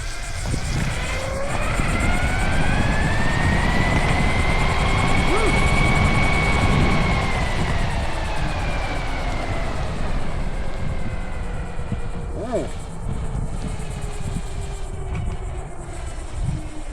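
An OMW Hussar electric skateboard with a flexy carbon fiber deck climbs a steep hill of about 20% grade from a standing stop in third mode. The motor whine rises and falls steadily under strong road and wind rumble.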